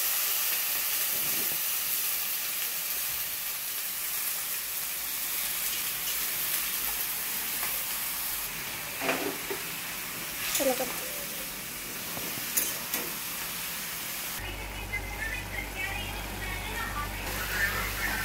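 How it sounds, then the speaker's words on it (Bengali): Vegetables sizzle while being sautéed in a pan, a steady loud hiss of frying and steam running throughout with occasional stirring clatter, and someone talks over it. "সবজি কষবো এখন"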